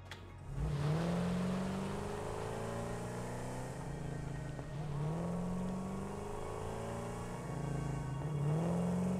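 Car engine in Satisfactory video game revving in repeated rising sweeps, three or four surges of droning motor tone, steady and moderately close, no talk.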